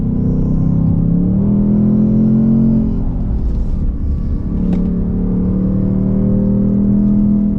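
A 2024 Ford Mustang GT's V8 engine on track, loud and sustained, rising in pitch under acceleration, easing briefly, then pulling hard again.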